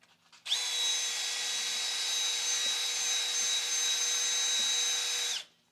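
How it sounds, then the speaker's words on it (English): A power drill spins a pilot brush to clear paint off a ground point on a 1984 pro touring car, one steady high whine lasting about five seconds at close range and then cutting off, with no talking. "I have this thing called a pilot brush"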